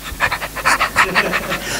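A human voice imitates a running dog panting, with about eight quick, breathy rhythmic huffs close to the mic.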